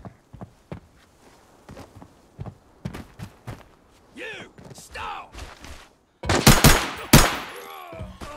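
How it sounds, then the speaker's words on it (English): Sniper rifle shots in an online shooter on a farmland map, sharp separate cracks and footsteps, then a loud burst of heavy fire toward the end, with bits of talking. "Yung maingay na sniper."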